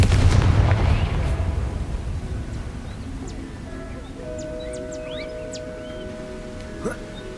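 A loud, booming Confringo spell blast from Hogwarts Legacy erupts at the start and fades away, leaving a quiet outdoor game ambience with scattered bird chirps and cooing.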